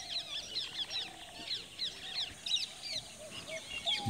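Birds call at dawn in Sri Lanka's Wasgamuwa National Park near a bungalow, with faint, repeated high chirps and whistles overlapping in a distant, layered chorus.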